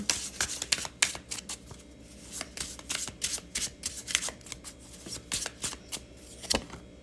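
Oracle cards from a Love Never Dies deck being shuffled by hand, a quick run of crisp riffling slaps and flutters, close and fairly quiet, with no one speaking.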